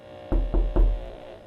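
Three evenly spaced hollow knocks sound in the Evaluation horror video game, heavy and muffled, over a low steady electrical hum with no talking.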